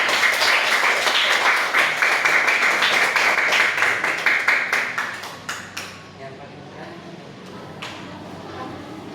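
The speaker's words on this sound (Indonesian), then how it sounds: "Tepuk tangan untuk orang tua kalian." Elementary schoolchildren in a classroom clap together, a loud rhythmic burst with voices mixed in that thins out midway into scattered single claps.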